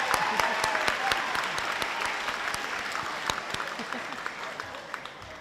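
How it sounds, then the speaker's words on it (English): Audience applause at a Golden West College School of Nursing pinning ceremony, a sustained round of clapping with scattered sharp individual claps standing out, steady and fairly loud throughout. "One more round of applause for Connor."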